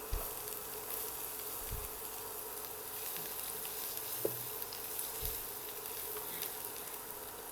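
Chopped garlic and ginger frying in about half a cup of butter for Chinese fried rice: a faint, steady crackling sizzle, with a few soft low knocks scattered through.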